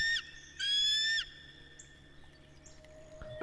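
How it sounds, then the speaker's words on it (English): A bird in the Russian Fishing 4 video game at Kouri Lake, heard as a couple of bright, whistling harmonic calls, one short and one longer, ringing out clearly over a quiet outdoor ambience. "This bird sounds like it's flying"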